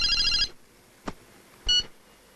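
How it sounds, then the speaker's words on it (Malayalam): A telephone rings in a Malayalam movie scene: a burst of trilling ring at the start, then a faint click and a short second ring fragment, moderately loud in an otherwise quiet room. "ജയ ഫോൺ വരുന്നു."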